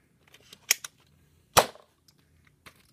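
A Nerf Zombie Strike CrossCut toy blaster is primed and fired: a couple of sharp mechanical clicks, then one loud snapping shot as the dart launches, followed by faint small clicks, close and with no talking.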